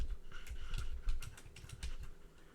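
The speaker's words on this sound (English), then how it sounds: "I'm going to type in the exact same prompt again." Fast, close typing on a computer keyboard: rapid clicky keystrokes in irregular bursts with brief pauses, no voices.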